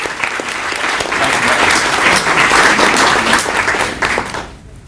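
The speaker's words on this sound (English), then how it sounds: "please give me a round of applause" A crowd at a National Safety Council event in Hammond, Louisiana breaks into sustained applause, a dense wash of clapping that holds steady for several seconds, then fades out.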